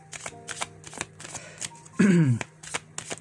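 Oracle cards being shuffled by hand before one is drawn: a run of crisp riffling and sliding card sounds, close and fairly loud, with one louder flutter partway through and no speech over it.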